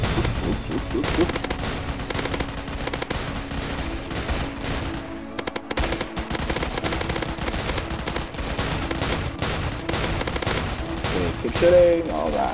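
Rapid gunfire from the Rainbow Blaster in Roblox Zombie Attack rattles in dense continuous bursts with a brief pause midway, loud and busy with game effects.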